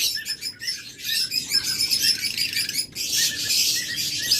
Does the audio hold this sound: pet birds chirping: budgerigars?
yes